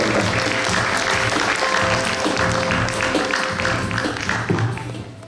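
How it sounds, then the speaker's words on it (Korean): Steady applause from a large audience at an inauguration ceremony of the Korean Traditional Music Association's Daejeon branch, dense and continuous throughout, fading slightly at the end. "여러분 큰 박수로"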